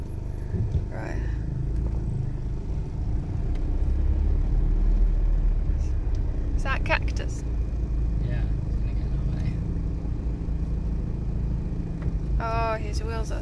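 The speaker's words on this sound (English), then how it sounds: "Oh, his wheels are spinning so bad." A 4x4, either a Land Rover Defender 110 or a Mitsubishi Shogun, spins its wheels in deep snow during a snowstorm, with a steady engine rumble throughout as people talk over it.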